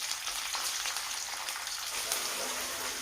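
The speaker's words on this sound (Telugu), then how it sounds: "దీన్ని ఆయిల్లో ఫ్రై చేసుకోవాలి పచ్చివాసన పోయే వరకు" Ginger garlic paste frying in hot oil with curry leaves for a cauliflower masala curry, giving a steady, close, dense hiss and crackle that continues unbroken without any talk.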